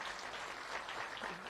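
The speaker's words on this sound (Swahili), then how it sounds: "tuwapigie makofi" Audience applause at a small-business, cooperatives and revenue expo at Embu University, a brief dense burst of steady clapping from a crowd heard throughout.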